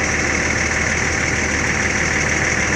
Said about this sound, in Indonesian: Bang Nasution lagi cek keadaan mesin